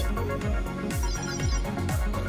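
A Digital Monster X virtual pet sounds its random-encounter alarm, a loud, insistent electronic ringing of rapid beeping tones repeating in a steady looping pattern with no voices.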